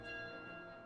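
A bell tolls in the video game Skyward Sword: one faint, sustained ringing tone with rich overtones that holds steady throughout, with no voices.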